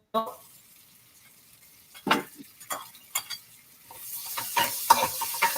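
Shrimp and vegetables spiked with scotch bonnet cook in a pot for a Caribbean Creole, with scattered scrapes and clinks of a utensil against the pot before the sizzle swells into a louder, continuous fry.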